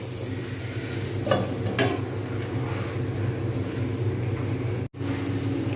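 Chilli fish pieces frying in a pan make a constant, even sizzle close up, with a couple of soft stirring clicks early on and a momentary dropout near the end.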